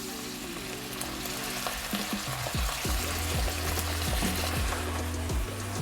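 Carrots and other vegetables sizzle and fry in a hot pan, a steady crackling hiss with soft stirring and scraping strokes, close and fairly quiet, with no voices.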